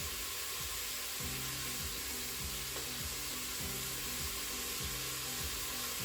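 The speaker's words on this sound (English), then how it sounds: "leaving that for another couple of minutes to fry" Pork fries in a Crockpot Express on saute mode, a loud, continuous close sizzle with rhythmic stirring scrapes throughout and no voices.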